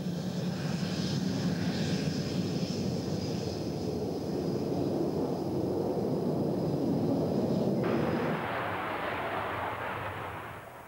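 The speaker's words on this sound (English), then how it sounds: "Les is sampling the Phantom's handling at low speed" A Phantom jet flies at low speed, a steady roaring engine drone that swells slightly and then fades away toward the end, heard alone without voices.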